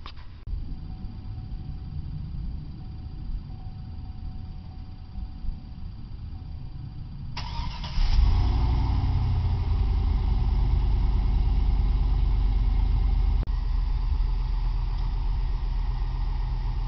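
Stock exhaust on a 2003 Chevrolet Tahoe, heard as a steady low tone that jumps louder around the eight-second mark, then settles into a continuous loud, rumbling idle to the end.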